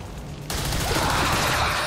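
Gunfire erupts in the XCOM 2: War of the Chosen strategy game, a sudden loud burst after half a second of quiet that becomes a dense, sustained fusillade of shots with no talk.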